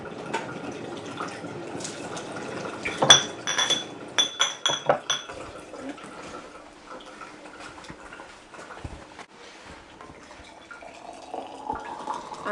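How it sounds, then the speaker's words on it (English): Boiling water is poured into glass jam jars, with sharp clinks of glass clustered early, then a quieter stretch of faint pouring and occasional taps nearby. "I'm pouring this boiling water into these jars."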